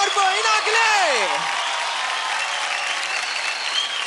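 Studio audience applause at a televised dance competition, loud and sustained throughout, with a voice briefly speaking over the start.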